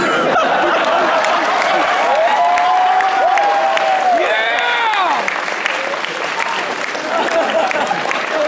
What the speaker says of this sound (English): I'm glad that you ever applauded so much